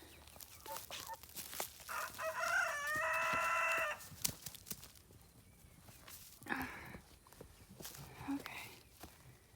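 Chickens cluck and mutter close by, with a rooster's loud, drawn-out crow in the middle and light rustling and footsteps around the birds.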